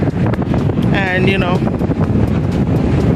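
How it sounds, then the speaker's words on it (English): Strong wind buffets the microphone by the sea, a steady low roar throughout, with a voice speaking briefly over it. "it's super windy, super windy"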